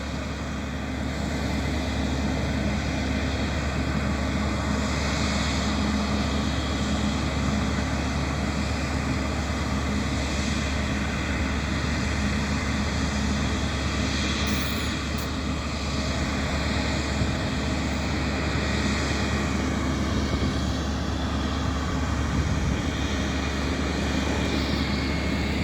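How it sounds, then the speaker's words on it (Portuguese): An Embraer E195 E2 airliner passes overhead with a steady, loud, broadband engine roar that holds evenly for the whole stretch, with no voices. "esse avião que está passando aqui em cima"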